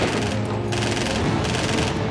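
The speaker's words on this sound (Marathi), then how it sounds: "अतिरेक्यांची चौथी जोडी फहदुल्ला आणि अब्दुल रहमान यांनी हॉटेलच्या पोर्च मधूनच गोळीबाराला सुरुवात केली" Terrorists fire guns from the porch of the Trident Oberoi hotel during the 26/11 Mumbai attack, heard as a dense, continuous burst of rapid gunfire with no voices.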